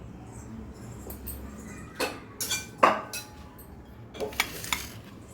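Little millet grains being swished and rinsed in a metal pot, with scattered clinks and scraping splashes, close by and fairly quiet.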